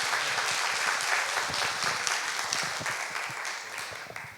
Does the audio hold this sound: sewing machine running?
no